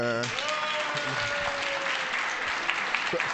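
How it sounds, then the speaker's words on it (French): A crowd applauds steadily throughout, a dense wash of clapping, with a voice speaking briefly over it at the start. "Applaudissez Marion, quand même."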